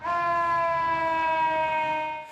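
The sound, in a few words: ambulance and fire truck sirens at a migrant shelter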